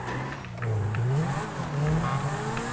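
A motorbike engine revs during a hillside race in the video game GTA V, its pitch climbing and dipping continuously with no talk over it.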